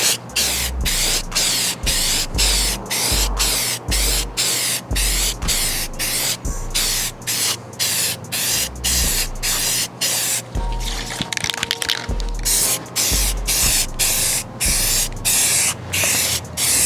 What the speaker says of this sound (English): When spraying your rifle, remember to spray from a distance.